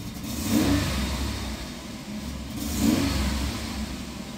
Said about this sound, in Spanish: Voy a acelerar un poquito a ver.